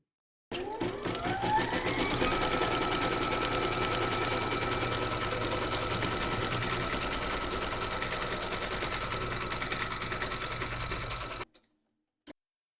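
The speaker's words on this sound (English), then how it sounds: "Pop your hoop into your machine and stitch round number 3" An embroidery machine stitches round number 3 to secure fabric and a tassel in a hoop, whirring in a loud, continuous rapid rhythm for about eleven seconds before stopping abruptly, followed by a single click.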